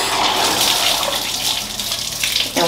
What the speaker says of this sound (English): I just take a rag and then I just rinse it